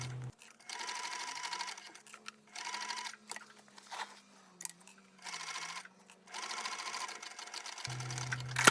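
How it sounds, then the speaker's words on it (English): A sewing machine runs in several bursts with short pauses, stitching a 3/8-inch seam allowance through fabric as a zipper tape is joined to a pocket for a crossbody bag. The whirring motor is close and steady, with no talking. "Sew together using a 3/8-inch seam allowance."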